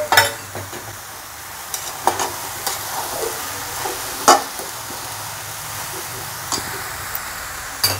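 Cabbage, potato and peas are stir-fried in a pan with fried tomato, making a steady sizzle broken by repeated scraping stirs and clinks of a spoon against the pan, close and fairly loud.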